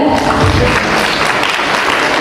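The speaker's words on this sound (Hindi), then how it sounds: "तो इनके लिए जोरदार तालियां हो जाए." Loud, dense audience applause for dancers at an achievement awards show in Pune, a continuous roar of clapping over the short stretch.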